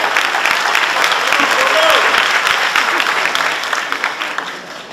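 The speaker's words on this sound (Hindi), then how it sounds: "जोरदार तालियां" Loud, dense applause from the audience at an Urdu children's play staged at the Ghalib Institute in New Delhi, filling the hall steadily and tapering slightly toward the end.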